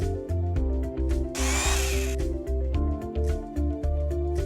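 A power drill whirs in a short burst near the middle, drilling holes into a wall, set against a steady background of music with a regular beat.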